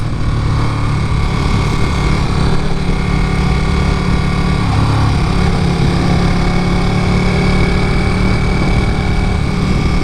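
A Ducati Panigale 959 sport motorcycle in race mode drones loudly and continuously under hard throttle, high-pitched and buzzing, with only slight changes in pitch and no voices.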